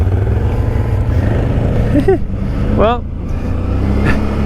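A 2019 Can-Am Outlander 650 XMR ATV engine idles roughly while firing on only one cylinder, a low uneven rumble close by under a man's brief speech.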